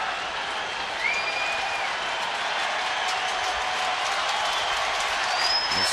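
A sellout baseball crowd at a Red Sox versus Giants game cheers and applauds in a steady, broad wash of noise from the stands, with a few whistles rising over it.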